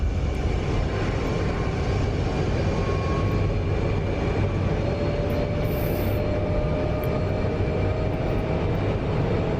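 A continuous, steady jet engine roar from an F-106 Delta Dart in the DCS flight simulator game, a dense, even rush of sound with no voices.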